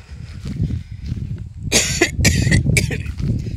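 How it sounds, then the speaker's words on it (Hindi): A person coughs several times in quick, harsh bursts close to the listener, between stretches of quiet shuffling. "खांसी हो रही है"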